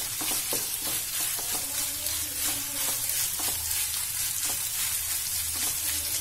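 Soya chunks fry in a pan, browning slowly as they are stirred; a steady close sizzle runs throughout, punctuated by repeated scraping and clinking of the spatula against the pan.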